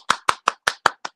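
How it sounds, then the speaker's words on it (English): Six sharp hand claps in a quick, even rhythm, close and loud with silence between each, the last one softer. "applause, applause."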